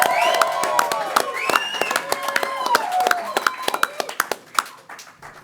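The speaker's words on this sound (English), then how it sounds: "So a round of applause for these folks." Applause and clapping from a press conference audience for the owners of the Kentucky Derby winner, a mix of crisp claps and taps with tonal chatter and voices running underneath, thinning out toward the end.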